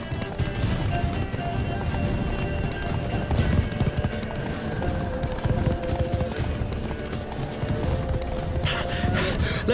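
Galloping hooves of a horse in The Witcher 3 video game pound in a fast, continuous rhythm, loud and close, with a brief whinny and game ambience layered over the run.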